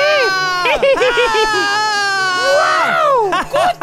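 Loud screaming shouts from a children's show character and children, a burst of wavering high-pitched yells about four seconds long, close and strained, with voices overlapping.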